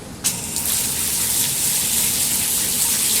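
Water gushes in a loud, steady torrent that starts abruptly and holds a constant broadband rush, close by and without talk.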